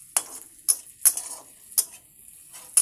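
Onions frying in a pan and being stirred with a utensil: sharp metallic scrapes and clinks against the pan recur every half second or so over a soft sizzle, close and fairly quiet.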